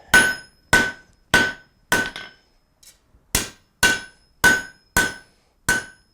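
A hammer strikes steel being forged into a fire poker, ringing out about ten crisp, loud blows at a steady pace with one short gap midway.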